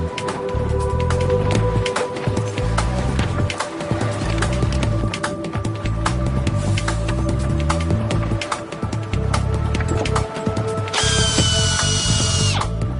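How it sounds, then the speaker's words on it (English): A power drill whirs continuously with repeated bursts and pauses, drilling holes for mounting brackets on the Rio–Antirrio Bridge in Greece, close and steady, ending in a higher-pitched whine. "All this just to drill holes for mounting brackets."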